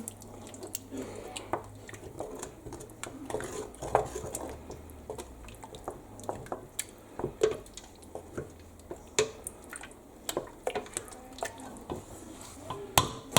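Goat sauce piquant with white wine is stirred in a pot, making irregular close clicks and knocks of a spoon against the pot over a faint wet slosh. Scattered, uneven taps run throughout.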